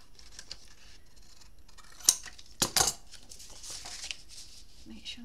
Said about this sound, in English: So let's just cut this down to the same size.